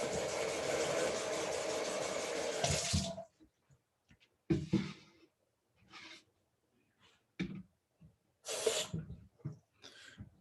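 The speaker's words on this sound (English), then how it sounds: "And then now we will be adding our 2 cups of water here." Water pours steadily into a glass mixing bowl for about three seconds, close and fairly loud, followed by scattered clinks and light knocks.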